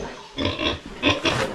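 Hybrid piglets grunting on a small farm, several short grunting bursts in close succession, fairly near and moderately loud with no talk.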